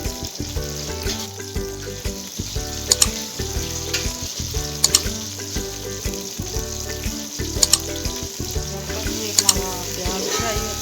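Onions frying in a pan, a steady sizzle up close with stirring clinks and scrapes at intervals, running throughout with no talking.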